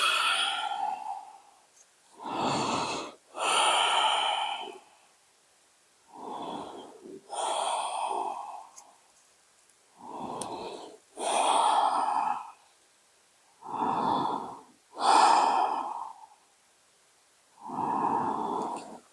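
Slow, deep yoga breaths during a vinyasa strengthening class, long audible inhales and exhales alternating steadily with quiet pauses between, close and clear with no talking.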